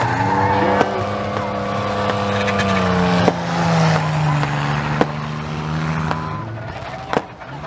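Race cars circling Speedway Miramichi at the end of a 50-lap demo race, a loud sustained engine drone with shifting pitch as cars pass, plus sharp knocks and bangs.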